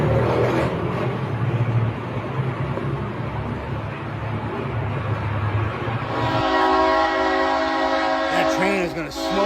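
A train charges along active tracks at a level crossing in Barra Mansa, Brazil, its heavy rumble loud and close, then a long blaring horn sounds in the second half.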